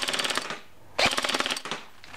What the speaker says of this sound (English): All right, gonna begin firing some rounds now.